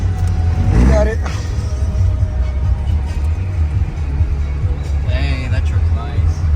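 Low, steady engine rumble from a truck at the Battle at the Alamo truck show 2025, idling close by with a brief rise near the start, while voices murmur faintly in the background.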